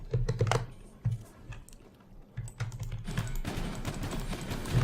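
Typing on a HORI TAC4 keyboard for PS4, a burst of rapid plastic key clicks, a pause, then a denser, steadier run of close, clattery keystrokes with no voice over them.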